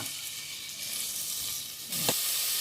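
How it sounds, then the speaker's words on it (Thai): Curry paste being dry-fried in a little oil in a pot, giving a steady close sizzle and hiss that swells briefly near the end as it is stirred. "ตั้งหม้อ ใส่น้ำมันนิดนึงแล้วก็เอาพริกแกงลงไปคั่ว"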